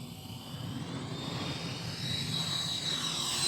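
A small E-flite Viper 64mm electric ducted-fan RC jet flies past at slow speed with takeoff or landing flaps down, giving a steady airy whoosh and whine that holds at moderate distance, with no talk.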